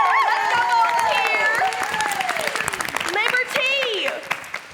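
A theatre audience applauds a volunteer at a P.T. Barnum stage show, a dense burst of clapping heard under a loud, animated voice.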